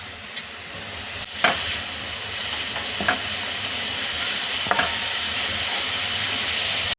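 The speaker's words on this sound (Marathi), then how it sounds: "आता हा कांदा परतत असतानाच आपण ह्यामध्ये ढोबळी मिरची पण टाकायची आहे" Onion, capsicum and cabbage sautéing in a pan, a loud constant hiss of sizzling vegetables with a few scraping stirs and knocks of the spatula near the start.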